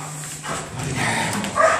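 Police dog during the arrest of a suspect inside a building, letting out short yips and whiny barks close by over a noisy indoor background.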